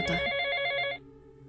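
An old-style telephone bell rings in one loud, close, bright trill that lasts about a second, then stops abruptly, leaving a faint hum.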